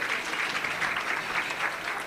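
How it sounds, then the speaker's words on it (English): A crowd applauding steadily, a dense even patter of many hands clapping that holds at a constant level throughout with no voices on top. "Let's have a round of applause for all of them"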